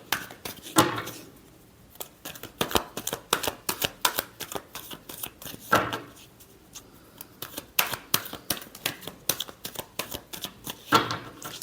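Tarot cards are shuffled by hand in repeated quick riffling bursts with short pauses between, close and fairly soft, with no voice over them.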